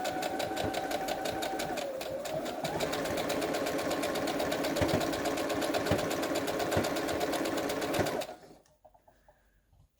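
A sewing machine stitches over pins while altering a crochet tutu top, a close rapid mechanical chatter running steadily for about eight seconds before stopping abruptly into near silence.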